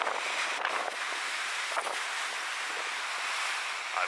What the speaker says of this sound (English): The size of some of these waves are funny.